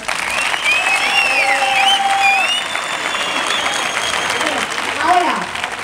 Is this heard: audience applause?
yes